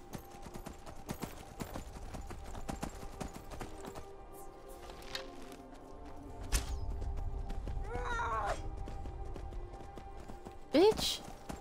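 Horse hooves clip-clopping in the video game Skyrim, a steady run of hoofbeats under game ambience and talk, with a brief loud burst near the end.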